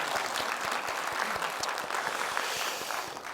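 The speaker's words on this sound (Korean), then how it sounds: "일단 박수 부탁드립니다." An audience at a parenting talk concert in Gwangju claps steadily and fairly loudly for a few seconds in a dense, even burst of applause.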